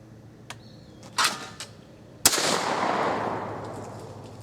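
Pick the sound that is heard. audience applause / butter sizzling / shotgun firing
shotgun firing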